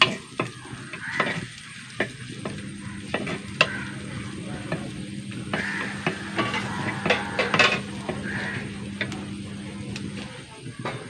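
Crushed small onions frying in hot oil with a continuous sizzle while a spoon stirs and scrapes the pan in a busy, repeated rhythm, with a faint voice in the background.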